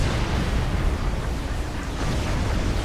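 Continuous rumbling artillery explosions in a large 4v4 battle of Supreme Commander 2, dense overlapping booms with no voices on top.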